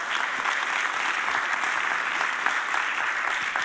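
An audience at the Broad Stage in Los Angeles gives steady, dense applause during an artists' talk evening, a full wash of many hands clapping without a break.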